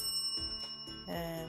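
A bright, tinny bell rings in a few quick struck tones, each with a sustained metallic ring, clear and close against a quiet background.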